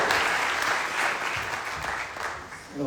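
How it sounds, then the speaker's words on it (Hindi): Loud applause from a training seminar crowd, sustained, dense clapping from many people that swells and eases slightly over nearly three seconds. "जोरदार तालियां"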